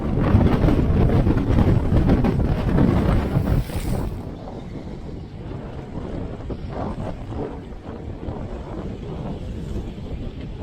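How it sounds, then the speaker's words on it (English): Strong wind roars and buffets the microphone on a sailboat anchored in Baja, Mexico, amid 3-foot waves, heavy at first and then easing to a steadier gusting rush with water sounds. "It got real windy"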